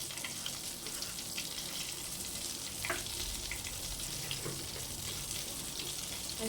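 Five-spice and radhuni seeds tempering in hot oil with a dried red chilli, a continuous faint crackling sizzle with no talking.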